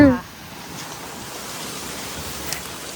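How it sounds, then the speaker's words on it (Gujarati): Steady wind roars across the microphone, a broad rushing hiss with no voices, holding at an even level after a brief louder start. "અત્યારે પવન છે."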